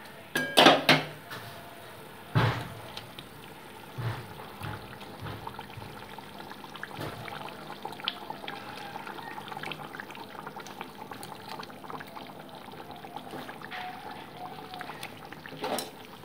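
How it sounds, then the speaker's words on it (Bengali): Fried fish pieces go into a pot of boiling curry: a few clinks and splashes at the start, then soft bubbling and occasional utensil taps for a long stretch, with no talk. "এবার আমি ভেজে রাখা মাছের টুকরোগুলো এর মধ্যে অ্যাড করে দিচ্ছি।"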